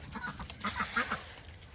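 Farm ducks being fed scratch grain quack in quick, overlapping bursts, a close, busy chorus of several birds with no pause.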